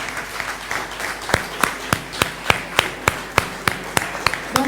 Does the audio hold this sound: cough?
no